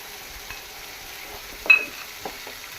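Tomato gravy with ginger frying in a pan, a low steady sizzle with a few light stirring scrapes and one brief metallic clink, close and fairly quiet, with no talking.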